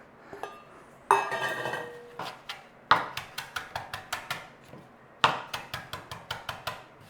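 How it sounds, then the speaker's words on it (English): Fresh parsley being chopped with a knife on a cutting board for a creamy chicken bacon ranch pasta salad, a close series of crisp, regular knife taps in short bursts, clear and unaccompanied by talk. "I want to chop some fresh parsley"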